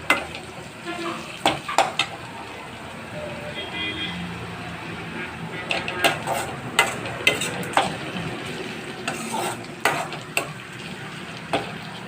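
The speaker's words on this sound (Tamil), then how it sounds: "நல்லா வதக்கி விடலாம்." Coriander and curry leaves sautéed in a pan for wheat rava upma, a low continuous sizzle with irregular sharp clinks and scrapes of a spoon against the pan, close by.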